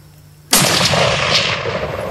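A single loud, close gunshot rings out while hunting outdoors, a sudden sharp blast followed by a long rolling echo that decays slowly across the open land.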